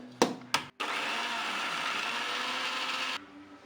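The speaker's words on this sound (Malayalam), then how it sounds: "ഇനി നമുക്ക് ഇതിലേക്ക് വളരെ കുറച്ചായിട്ട് എണ്ണ ചേർത്ത് കൊടുത്ത് അടിച്ചെടുക്കാം" A kitchen mixie blender whirs steadily for a few seconds while oil is blended into homemade mayonnaise, preceded by two short clicks or taps, then it stops, leaving a faint room hum.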